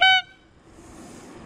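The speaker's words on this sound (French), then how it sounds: "C'est pour ça qu'il faut avoir un gros klaxon." A single loud, brassy bicycle horn toot lasting a split second, then low rumbling road and wind noise.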